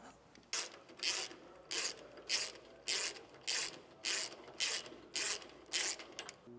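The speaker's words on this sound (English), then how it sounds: "Now we can come back with our socket and wrench, getting everything tightened up." A socket wrench ratchets in a steady rhythm while tightening sway bar bushings on a 2024 Ford E-Series cutaway, about ten evenly spaced clicking bursts, close and fairly quiet.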